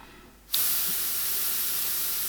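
An airbrush spraying paint on a miniature switches on suddenly to a steady, close, broad hiss that holds evenly to the end, with no talking.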